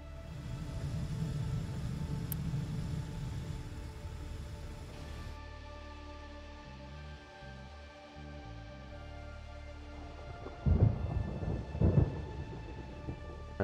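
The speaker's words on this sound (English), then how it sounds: "It's raining." Rain and rolling thunder in the industrial building game Captain of Industry: a steady wash of rain with a low rumble, and two sharper thunder cracks near the end. No one speaks.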